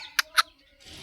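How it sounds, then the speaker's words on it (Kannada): Chickens kept near a village grandmother's house give two short, sharp clucks close by in quick succession, followed by a brief soft rustle. "ಅದು ಕೋಳಿಗಳು ನೋಡಿಸ್ತೀನಿ."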